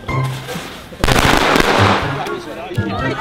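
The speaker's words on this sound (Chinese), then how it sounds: "我人生从来没有放过鞭炮，是我的人生第一炮" A thrown firecracker bursts with a sharp loud bang, followed by crackling and ringing debris; excited voices speak before and after the blast.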